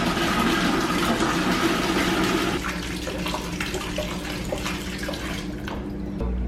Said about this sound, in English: Now we're going to put some more water in here. We're going to fill it up to 5 gallons.